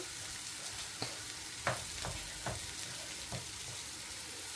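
Egg and string hoppers stir-fried in a pan, a low steady sizzle broken by several soft scraping knocks of a spatula at irregular intervals, no voices.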